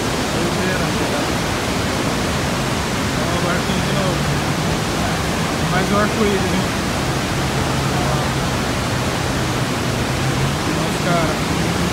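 Roar of Iguazu Falls from the Argentine side: a steady, loud, broadband wash of falling water fills the whole stretch, with people talking over it throughout.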